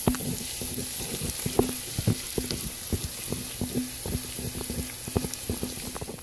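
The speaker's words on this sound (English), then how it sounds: "take the chopped onion and garlic, put it in like this" Chopped onion and garlic fry in a thin layer of oil in a pan for spaghetti sauce, giving a steady close sizzle broken by frequent sharp scraping and stirring knocks.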